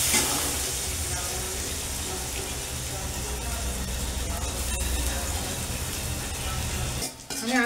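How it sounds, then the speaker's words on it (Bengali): Eggplant pieces frying in oil in a pan, a dense continuous sizzle that holds steady for several seconds before cutting off abruptly near the end. "সুন্দর করে বেগুনগুলো আমি ভেজে নিই।"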